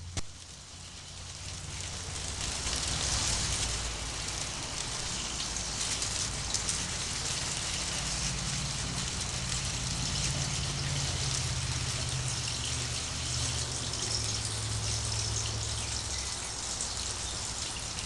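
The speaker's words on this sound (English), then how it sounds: "you're going to be draining the water out of it" Water drains from a bottle, trickling and gurgling steadily for a long stretch, a continuous close splashing flow with a low rumble beneath.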